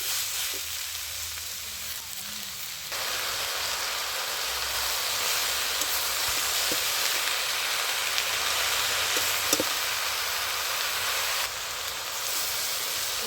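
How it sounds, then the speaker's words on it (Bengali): Spinach and mixed vegetables stirred in a hot pan for a shrimp and spinach curry, a loud continuous hiss and sizzle that swells sharply after a few seconds, with occasional soft scrapes of stirring, no voices. "ভালো করে আমি সবজির সঙ্গে নেড়ে চেড়ে নিচ্ছি পালং শাকটা"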